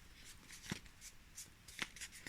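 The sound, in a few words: folding and flattening paper for a mobile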